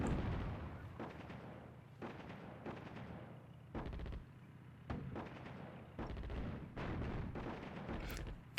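Gunfire and artillery from the North Africa war game Attack at Dawn fire at infantry as a run of dense, booming bursts in an uneven rhythm over a constant rumble.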